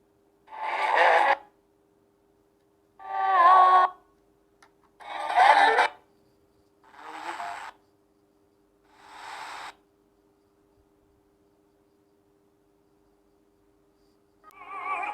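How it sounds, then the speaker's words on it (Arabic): A digital radio scans automatically for stations, letting out five short bursts of sound about two seconds apart, then a long silent pause before another burst starts. "بيبحث عن القنوات وبيبحث عن الحاجة اهو. كده بيعمل سيرش عنها لوحده"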